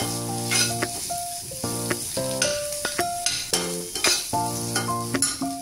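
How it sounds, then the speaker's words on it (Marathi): A prawn mixture with coriander is stirred and sautéed in a hot pan, with a steady sizzle broken by repeated scraping strokes of a spatula against the metal, close and clear. "कोथिंबीर घालून चांगली परतून घेऊया"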